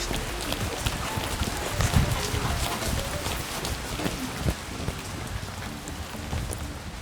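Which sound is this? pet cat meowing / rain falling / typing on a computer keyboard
rain falling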